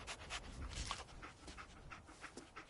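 Dogmeat, the dog companion in the Fallout 4 video game, pants quietly in quick rhythmic breaths, faint and steady throughout with no talk over it.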